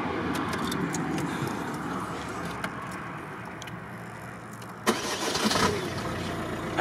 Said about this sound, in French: This is the gold star of diesel engine of the shit Citroën car.